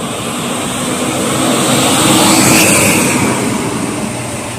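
Intercity bus of the Bintang Luragung line with a Titan body rumbles past on the Pantura road, a loud broad engine roar swelling toward the middle and fading slightly, with no voices.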